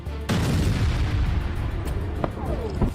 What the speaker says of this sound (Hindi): मेहराबाद एयरपोर्ट के पास अमेरिका और इजराइल ने बड़ी ज्वाइंट एयर स्ट्राइक की, जिसके बाद वहां बड़े धमाके होने लगे।